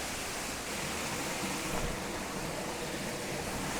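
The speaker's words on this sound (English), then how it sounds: "a tricky waterfall without lots of water flowing down the creek bed here" Steady, even rush of falling water, a thin waterfall trickling continuously with no voices or other sounds.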